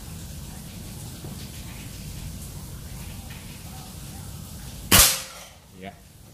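A single sharp, loud shot from a Mouser Monel 4000 PSI air rifle cracks out over a steady background hiss, followed by a brief ringing decay and a faint thud about a second later.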